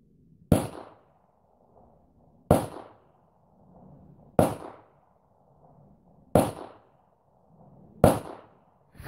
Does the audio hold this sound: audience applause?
no